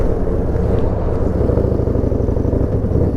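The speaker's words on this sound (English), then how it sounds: "Let's get out of here and get on the bike and start touring." A Harley-Davidson Road Glide motorcycle out touring on the road, a loud, steady low engine rumble with continuous wind noise, heard close and unbroken throughout.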